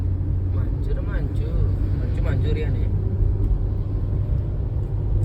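A car drives along a road during a trip in Araku Valley, giving a steady low engine and road rumble that fills the whole stretch, with people talking inside the car over it.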